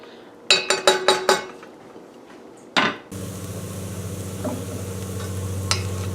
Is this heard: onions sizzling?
yes